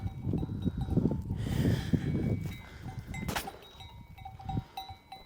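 Breeding sheep bleat and mill about nearby in a rural flock, scattered calls over a low, shuffling background of animal movement.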